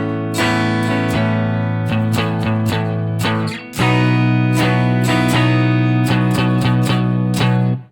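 An electric guitar strums barre chords through bars 10 to 14 of a song written for practice, loud and close in steady rhythmic chops, with a brief dip just before a chord change, and no talking.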